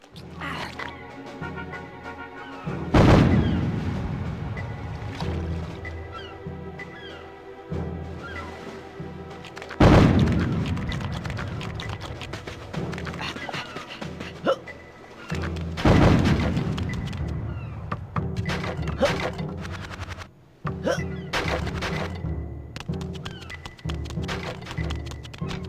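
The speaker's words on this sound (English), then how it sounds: "I wonder if it's anything to do with those cannons that are clearly firing" Cannons in Conker's Bad Fur Day fire three heavy booms spaced several seconds apart, each one loud and echoing, over a steady backdrop of game music and ambience.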